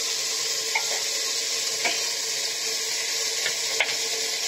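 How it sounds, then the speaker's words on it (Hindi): Steady sizzling of mutton with garlic and ginger paste and spices sautéing in a hot pan, with occasional soft scrapes of stirring, close up and without voices. "अब इन सबको अच्छे से सोटे कर लेना है"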